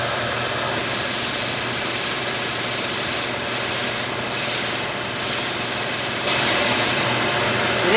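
Steady rubbing scrape of a high carbon steel knife blade being sharpened on a grinder or stone, continuous and close, with slight shifts in stroke near the end; no talking.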